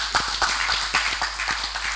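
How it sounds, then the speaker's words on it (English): An audience applauds at a public forum in Ghana, with a dense, steady wash of many hands clapping and a few sharper claps standing out throughout the short burst. "I'm sure we can give him another round of applause."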